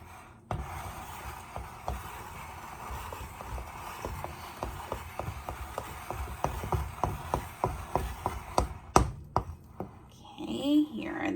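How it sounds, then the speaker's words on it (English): Dry residue being scraped off the sides of a container, heard as a series of regular, firm scraping strokes that gather pace and grow louder toward the end, close by with no talking. "I'm making sure to scrape just that dry part of it off the side"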